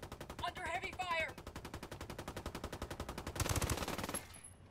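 Rapid automatic gunfire in a multiplayer shooter video game rattles in a steady, evenly spaced burst for several seconds, growing denser and louder near the end before cutting off, with a brief voice underneath early on.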